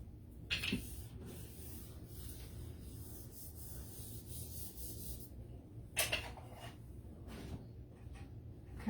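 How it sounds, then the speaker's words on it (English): A sanding block rubs across a wooden cupboard door, giving quiet, steady scratchy strokes with a few sharper scrapes partway through. "I'm just going to take a sanding block and try to take this off without making a mess of it"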